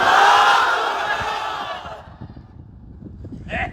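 A large crowd roars a loud massed chant of takbir at a political gathering in Gazipur, the swell fading after two seconds into quieter murmuring and a brief renewed shout at the end.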